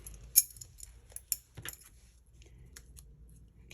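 Metal scissors picked up from a crafting table cluttered with card-making supplies, a few sharp clinks and rattles, close and fairly quiet, with soft handling noise in between.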